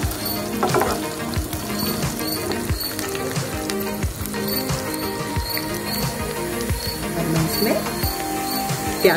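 Chopped garlic and green chilli sizzle in a hot pan at the start of an egg shakshuka, a close, steady frying hiss with light crackling pops and no voices.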